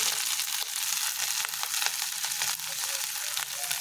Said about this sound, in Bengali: এখন আমি হালকা কষিয়ে নেব।